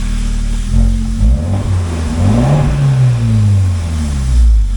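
A 2018 Fiat 124 Spider's 1.4L MultiAir engine runs close by and loud, rising and falling through several revs above a steady idle.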